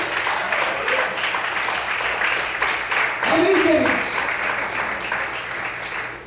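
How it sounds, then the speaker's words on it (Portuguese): A church congregation applauds steadily throughout, a dense wash of clapping under a preacher's voice and shouts of praise. "Será que você pode aplaudir e exaltar a Deus por isso?"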